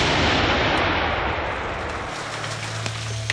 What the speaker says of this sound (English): the booster charge ignites the main charge. The total time for this series of explosions is less than the proverbial blink of an eye.